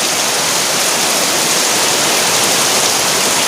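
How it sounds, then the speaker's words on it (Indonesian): Heavy rain pours down on a village, making a loud, dense, unbroken hiss that stays steady throughout with no voices. "Hujan udah mulai turun gede"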